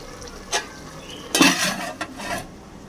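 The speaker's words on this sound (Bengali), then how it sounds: "একটু কষাই নিই।" Chilli-spiced masala is sautéed in a pan, with a few brief scraping strokes of a spoon against the pan over a faint, low sizzle, close and fairly quiet.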